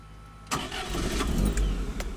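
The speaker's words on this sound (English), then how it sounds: "Cranks right up just like a modern car." A 1978 Fiat 124 Spider engine cranks briefly, then catches and settles into a steady, close idle.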